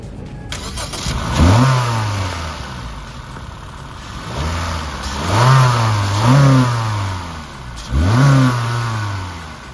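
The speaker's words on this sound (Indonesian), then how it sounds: "Kita coba dengar mesinnya dulu." A Honda City Hatchback's 1500cc i-VTEC engine cranks and starts, then settles to a steady idle broken by three loud revs that rise and fall, close up with no talk.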